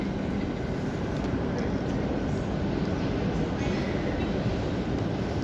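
A train passes close by with a loud, steady rumble and rushing roar that holds throughout, with no voices over it.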